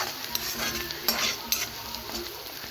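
Steady sizzling of onion and green chilli sautéing in a pan, with occasional scrapes and clinks of a utensil stirring, no voices.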